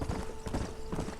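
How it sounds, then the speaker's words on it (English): Horse hooves clip-clopping steadily in Red Dead Redemption, a quick close rhythm of hoofbeats over outdoor game ambience. "Carry on riding your horse out of here."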